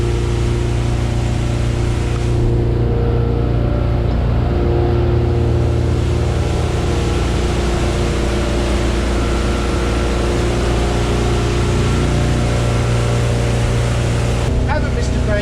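A Bayliner 275 motorboat cruises at about 19 knots on a sea trial, its engine droning loud and steady with rushing wind and water noise throughout the whole stretch.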